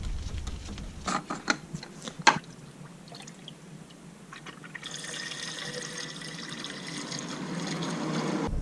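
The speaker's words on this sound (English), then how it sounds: "So I removed the bleeder, you can see the fluid coming out." Coolant trickles out of an opened bleeder valve on a BMW E46 M3, a soft steady running of liquid with a few sharper drips and clicks early on, faint and close with no talking.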